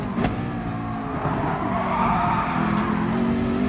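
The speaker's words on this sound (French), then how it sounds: "Comme là j'ai dû freiner parce que sinon" Race car in Gran Turismo Sport braking hard during a Manufacturer Series online race, with a steady loud engine drone and a sustained tire squeal running under it for several seconds; no talk.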